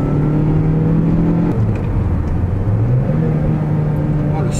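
Engine of a worn Mazda 3 being prepared as a cheap track car runs with a steady low hum, shifts pitch as it revs and drops, loud and close throughout.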